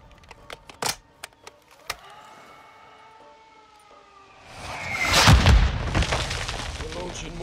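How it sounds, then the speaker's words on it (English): Mortar strikes in Modern Warfare 2: a few sharp impacts and a rising siren-like tone, then a heavy rumbling blast that swells loud and lingers. Voices speak in between. "We're launching mortars"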